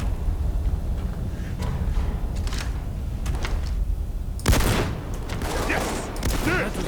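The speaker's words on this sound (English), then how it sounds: "That was a nice bit of shooting." Gunfire in a Payday 2 heist: a sustained rattle of shots over noisy game action, intensifying into sharper, denser bursts in the second half.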